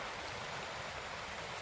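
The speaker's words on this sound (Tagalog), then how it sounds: "Parang malakas yung ulan dito tol" Steady, dense hiss of rain falling hard, constant and broadband with no pauses, fairly close and filling the whole moment.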